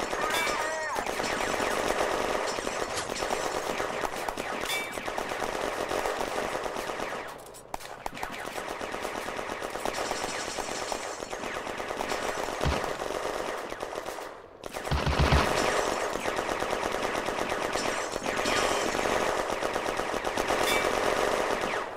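Heavy sustained gunfire from tanks in a war video game set during the 1940 recapture of Villers Bocage, a dense continuous barrage with a brief lull midway, loud and close throughout.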